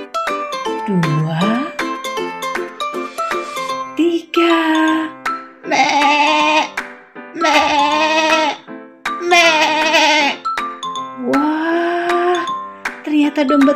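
A sheep bleats repeatedly just after giving birth to a lamb, loud wavering cries broken by short pauses, with a tinkling bell sound mixed in and some voices in the background.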